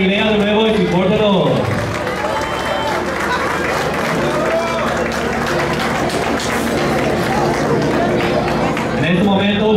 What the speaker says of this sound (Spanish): un aplauso para Galilea de nuevo